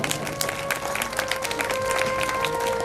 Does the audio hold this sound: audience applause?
yes